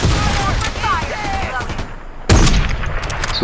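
Gunfire erupts in a shooter video game as a loud burst of shots, following busy game sounds with a voice talking underneath.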